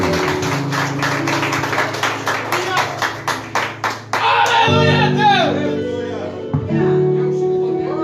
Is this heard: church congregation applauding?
yes